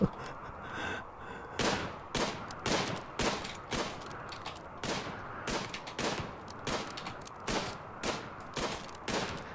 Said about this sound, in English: Well, at least you're training your shooting.